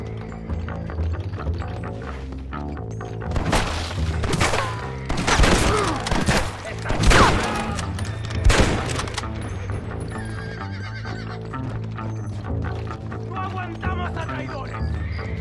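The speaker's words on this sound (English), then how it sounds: "Stop shooting at me!" In the video game Red Dead Redemption, a loud gunfight blares: sharp gunshot cracks and bursts over a thick backdrop of horse whinnies, hooves and score, with voices shouting in between.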